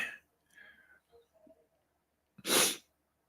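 A single sharp sneeze bursts out near the end, loud and close, after a few soft breathy sounds and quiet murmurs.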